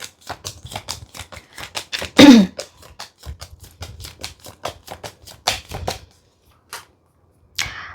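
Tarot cards shuffled and dealt by hand: a steady run of crisp flicks and taps, close and clear, with one louder riffle burst and a sharper rustle near the end, no talking.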